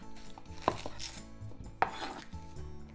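A knife chops through an onion on a cutting board, two sharp distinct thuds about a second apart over a quiet background.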